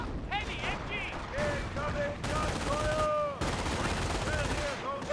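MG42 machine gun fire in the World War II strategy game Company of Heroes, rapid bursts mixed with distant battle noise and whistling shells, all under a steady game soundscape.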